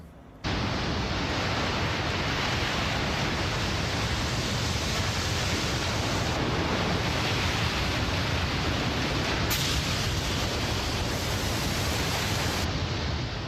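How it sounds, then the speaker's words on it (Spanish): A massive tsunami of huge ocean waves gives a continuous, dense roar of crashing water that stays loud and unbroken throughout. "Enormes olas asesinas de una fuerza inimaginable."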